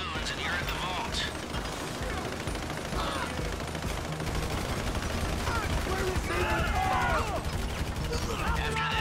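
Rapid gunfire from a casino heist video game, bursts of covering fire crackling continuously and loudly throughout, with voices shouting over the shooting.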